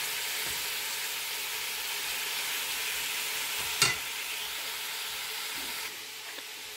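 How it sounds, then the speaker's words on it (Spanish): Chorizo sizzling steadily in a pan, a continuous frying hiss with a single sharp clack near the middle as the meat is turned, then softer scraping toward the end; no talking. "Aquí ya estoy volteando la parte del chorizo."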